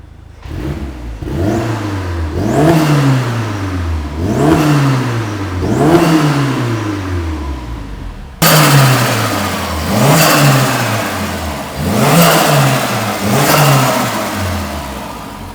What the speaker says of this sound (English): Already sounds so sick. Such a nice sounding engine.